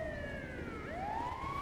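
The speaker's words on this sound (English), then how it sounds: "And they actually have an ambulance this time." Ambulance siren in the GTA V video game wailing steadily, its pitch sweeping down then back up, loud and continuous with a faint vehicle rumble beneath and no talking.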